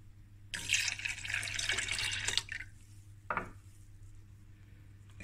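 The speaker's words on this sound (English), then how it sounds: "we're going to fill this container 3 times with milk, full cream milk, and then add it in there" Full cream milk poured from a measuring container into a bowl for a milk tart, a close splashing pour lasting a couple of seconds followed by a brief second trickle, in a quiet kitchen.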